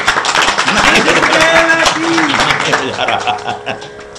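An audience at a spiritual discourse by a spiritual teacher breaks into dense, sustained clapping that fills the room, with voices and light laughter mixed in before it tapers off.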